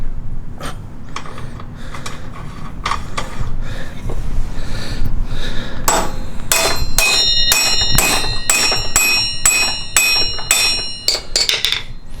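A rear axle being hammered out of the hub of a 2007 Yamaha Raptor 700: sharp metallic blows in quick succession, sparse at first and then fast and ringing, loud and close, with no voices.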